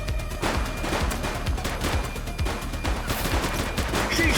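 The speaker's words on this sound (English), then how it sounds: "Shots fired!" Rapid gunfire in The Precinct, a police video game: close, loud repeated shots in a steady rhythm across the whole stretch, with almost no talk.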